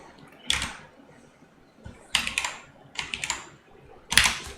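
Several short bursts of typing on a computer keyboard, quick clusters of close, crisp key clicks separated by quiet pauses.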